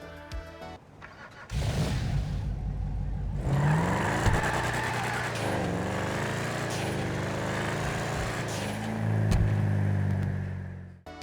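Sabre Turbo muscle car in GTA V, fitted with hydraulics, revving its engine in a video game; a deep throaty idle rises into sustained loud revving, with surges and a final burst before cutting off, no talking.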